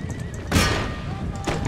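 A horse neighs loudly in the video game Empire: Total War, a short whinny rising over constant battle noise, with a second burst of noise near the end.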